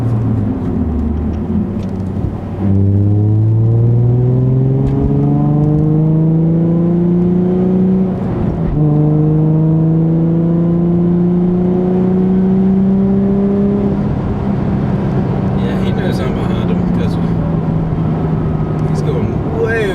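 A Nissan 350Z's exhaust, fitted with an Invidia Gemini cat-back and Berk Tech high-flow cats, roars as it accelerates through several gears, pitch climbing then dropping at each shift, loud and close from inside the car.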